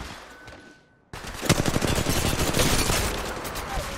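A quiet lull gives way to a loud, close burst of rapid gunshots in a shooting video game, the fire continuing in dense volleys to the end.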